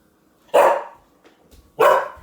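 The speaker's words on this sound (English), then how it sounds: "Hold on, my dog wants out." A dog gives two sharp, loud barks about a second apart, close by, wanting to be let outside, with quiet in between.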